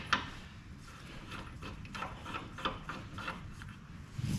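A ratchet wrench with a one-inch socket turns a nut, giving a close, rapid series of clicking pawl ticks with light metallic clatter throughout.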